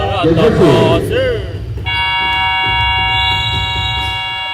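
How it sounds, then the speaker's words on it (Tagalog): A sustained electronic buzzer ending the first half of a basketball game blares for a few seconds, following a loud burst of crowd noise and a whistle-like tone, in a busy arena. "The buzzer."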